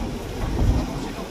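Steady rain pours down on a long bridge in the Philippines, a broad continuous wash of noise with a low rumble swelling briefly midway; no voices are heard.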